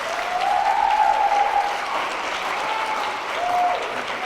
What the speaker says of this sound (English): Let's applaud these students once again.